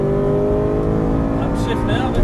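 An Aston Martin V8 Vantage on a Las Vegas racing circuit builds revs, its engine note climbing loud and steady with rising harmonic tones, a brief higher whine near the end, as an instructor's voice talks over it.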